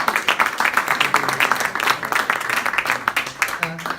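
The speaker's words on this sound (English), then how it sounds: "A round of applause, please." An audience at a Stand Up to Racism and TUC gathering in Birmingham applauds, a dense lively clapping that swells and holds for several seconds, with a few voices mixed in.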